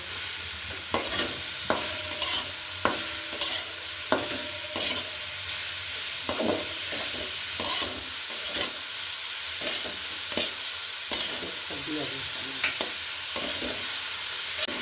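Grated carrots and beets being stirred in a frying pan as a vegetable chop filling cooks, with steady scraping strokes of the spoon over a continuous sizzle, close up and without talk.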